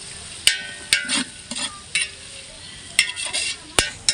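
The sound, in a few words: onions sautéing and sizzling in a pan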